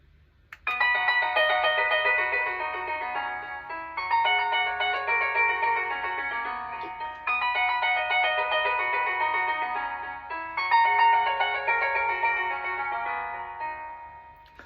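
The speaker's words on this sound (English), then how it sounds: "It's not often you hear harp on a doorbell." A doorbell chime plays a plucked harp melody in four repeating phrases, each starting with a bright attack and ringing out, loud and clear with brief gaps between phrases and no voices.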